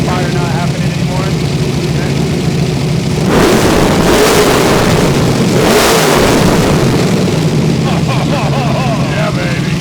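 Goldberg's 800HP NASCAR-powered Cobra fires up close and loud, its big engine idling rough before two sharp revving bursts roar out and settle back to a heavy burble.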